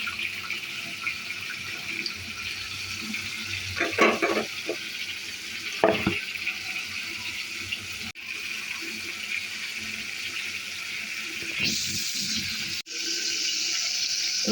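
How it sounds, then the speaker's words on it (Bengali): A little water goes into a pan of frying rui fish for a teasel gourd curry, over a constant sizzle with brief clinks of stirring and a short pour near the end. "এটার ভিতরে অল্প একটু পানি দেবো।"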